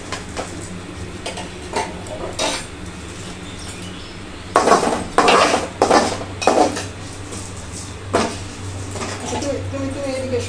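Masoor lentils are dry-fried in a pan at home for homemade chanachur, giving off intermittent scraping, stirring clatter and metallic clinks over a low background hum, with a burst of quick knocks midway.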